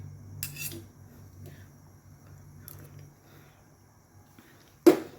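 A lid set onto a cooking pot of sweet potato simmering in coconut milk: soft scrapes and light rustling over a low background hum, then one sharp, close metallic clank near the end.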